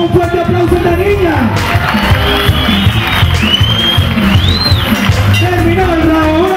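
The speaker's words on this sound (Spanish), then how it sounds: "¡Y por qué no le damos un fuerte aplauso a la niña!" A crowd at a community street Olympic boxing event cheers and applauds a girl boxer, with whoops, clapping and shouted voices blending into a loud, continuous roar.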